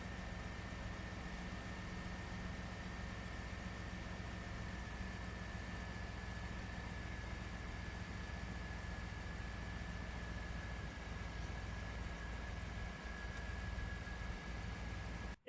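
The engine of a Firebird Trans Am idles in park on flat ground, a quiet, steady low hum with a faint whine running throughout.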